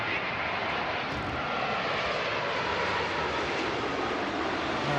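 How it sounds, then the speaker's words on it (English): An ANA Boeing 787 arriving at Seattle airport, a broad, steady jet roar that stays loud and even throughout, without a clear rise or fade. "ANA 787 just came in"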